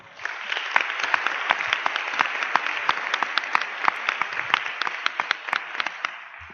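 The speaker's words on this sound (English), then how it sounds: "Please give yourself a round of applause." An audience at a conference claps for several seconds, a steady wash of applause with sharp individual claps standing out, fading slightly at the end.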